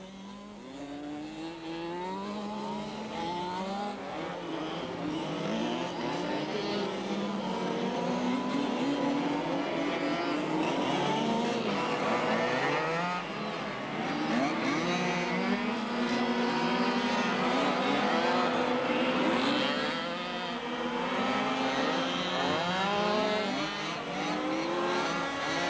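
Mini buggy race cars on a club track at Saint Martin de Seignanx, engines whining and revving continuously as the pack laps, pitch sweeping up and down with shifting loudness, no voices.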